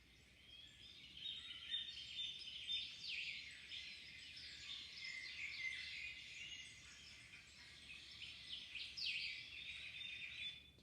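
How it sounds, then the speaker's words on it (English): Recorded birdsong played back as a listening exercise, a steady wash of high chirps and tweets filling the stretch at moderate level with no talking. "That was birds chirping."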